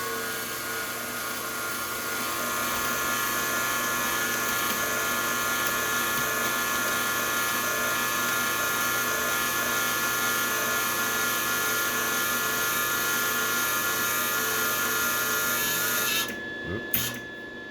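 An aluminum spool gun on a welder runs steadily with a continuous whirring motor drone, close and fairly loud, then cuts out abruptly near the end with a brief knock.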